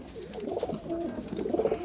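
Domestic pigeons kept at a home coop cooing softly, a few low burbling calls close by in quiet surroundings during hot weather.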